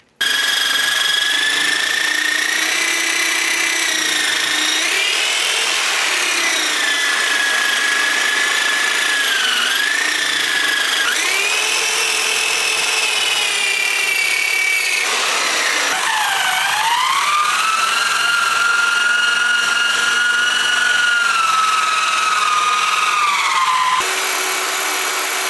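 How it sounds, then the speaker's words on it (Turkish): A power drill spins a wire brush removing rust from railroad track, with a continuous high whine and harsh scraping, its pitch dipping and rising as pressure changes, close and loud. "Bu matkap ucuna takılan bir tel fırça."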